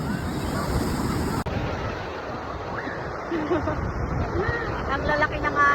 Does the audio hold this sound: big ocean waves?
yes